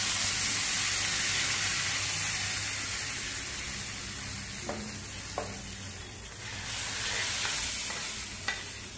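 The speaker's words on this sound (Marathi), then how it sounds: "आता आपण ही तयार केलेली फोडणी घालून घेऊया याच्यात" Hot tempering with asafoetida hits corn appe batter and sizzles in a loud, steady hiss that slowly fades, with a few light clicks of stirring on top.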